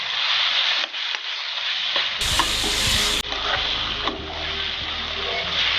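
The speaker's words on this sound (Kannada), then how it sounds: "ನಾವು ಕಟ್ ಮಾಡ್ಕೊಂಡಿರೋ ಬ್ರಿಂಜಾಲ್ನ ಹಾಕ್ಕೊಳ್ಳೋಣ. ಈಗ ಮಿಕ್ಸ್ ಮಾಡ್ಕೊಳ್ಳೋಣ." Cut brinjal being stirred as it fries in a pan, close scraping spatula strokes over a continuous crackling sizzle.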